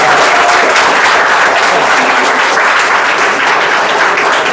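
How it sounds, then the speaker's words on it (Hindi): A school prize-giving audience claps loudly and steadily for a student who scored 18 out of 18, the dense applause continuing without a break through the whole stretch. "18 लाई है, तो ये ताली तो बजाओ।"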